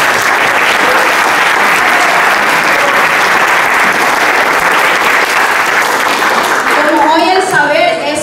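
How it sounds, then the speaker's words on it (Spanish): Big, loud audience applause at a launch event for an expressive therapies program and theater school, a continuous roar of clapping filling the room, with voices becoming audible as it winds down near the end. "Así que para ella un gran aplauso."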